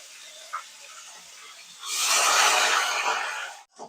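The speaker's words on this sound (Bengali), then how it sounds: "এটা একটুখানি হওয়ার পরে এবার আমরা ঢেলে দেবো পেঁয়াজ" Onions are tipped into a hot pan for chicken gravy, setting off a broad, loud sizzle that rises suddenly and holds steady for a couple of seconds before cutting off, following a quieter background hiss.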